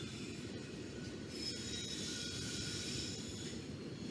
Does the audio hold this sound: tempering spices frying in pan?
no